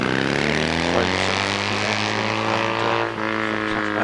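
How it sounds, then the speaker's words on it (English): A Ducati 750 motorcycle races up a hillclimb course, its engine loud and close with a strong steady roar and rising revs, a brief dip near the end as it shifts. "And we see Nigel Glover on this Ducati 750"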